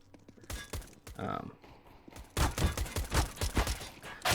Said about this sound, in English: you are shooting too rapidly. And the recoil of the pistol is what caused you to miss